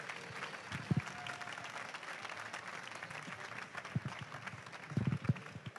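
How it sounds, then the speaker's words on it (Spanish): An audience at a game development projects conference applauds, fairly faint and steady clapping with a few louder thuds and handling bumps scattered through. "Por favor, un fuerte aplauso para Sergio."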